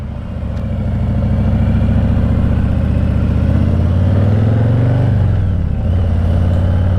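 A Harley-Davidson Heritage Classic Anniversary Edition with a 114 engine rumbles loudly up close, revving and pulling steadily with a deep throbbing tone that rises and falls as it rides.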